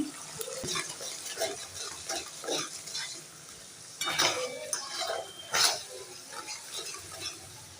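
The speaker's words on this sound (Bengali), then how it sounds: "পোস্ত বাটি ধোয়া জলটাও আমি দিয়ে দিলাম" Rinse water from a poppy-seed paste bowl is poured into a pan of frying spice masala for a vegetarian potato-paneer dalna, bringing bursts of sizzling and clattering stirring that rise and fall close by.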